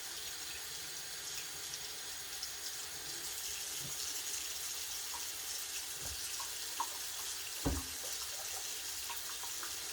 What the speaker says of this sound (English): Now this one, I'm going to go ahead and rinse it,